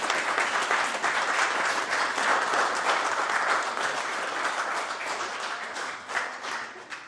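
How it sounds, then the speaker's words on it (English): An audience applauds an art prize winner at a Rotary youth art prize ceremony, with steady, dense clapping that holds for about seven seconds and fades slightly toward the end. "Can we give her a round of applause?"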